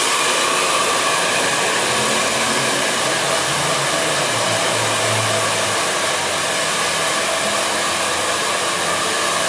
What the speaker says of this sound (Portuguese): Secando o cabelo todinho com a mão primeiro